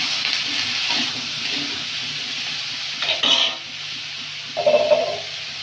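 Vegetables frying with turmeric, chilli and tomato in a village kitchen, a steady loud sizzle with occasional stirring and scraping of the pan.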